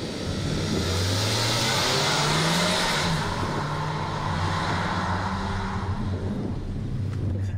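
A Hyundai Kona 1.6T GDI with 177 horsepower accelerates hard on a timed run, its engine revving loudly and steadily with a broad roar and rising pitch, close and continuous with no talk.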